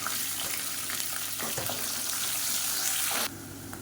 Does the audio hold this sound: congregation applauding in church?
no